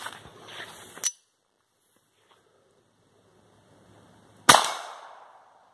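Two sharp, loud gunshots from a Browning Buckmark pistol firing .22 LR rounds, roughly three and a half seconds apart, each with a short echoing tail, and quiet in between.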